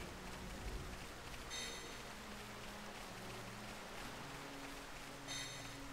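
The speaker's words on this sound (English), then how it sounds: "It's now raining up here." Steady rain falling across an outdoor area in Xenoblade Chronicles DE, a continuous even hiss with no talk and a couple of brief brighter swells.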